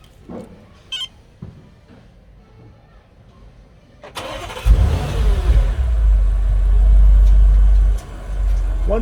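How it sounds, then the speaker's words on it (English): An Audi RS7 engine is started remotely: after a few seconds of quiet with faint clicks, the starter catches and the engine fires with a loud burst, then settles into a strong, steady idle close by. "you simply use the long range remote to remotely start the car"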